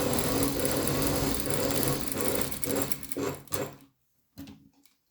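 Domestic sewing machine running a fast continuous stitch along the corner of a patch pocket, whirring close up, then slowing with short bursts before stopping, no talk.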